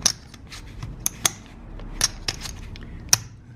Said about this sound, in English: they shuffle like a dream, like most ceramic chips do